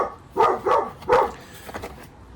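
Dog barking at a neighbor, three loud close barks in quick succession followed by a couple of fainter, softer woofs.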